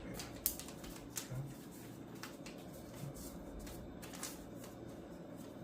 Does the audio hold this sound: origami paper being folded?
yes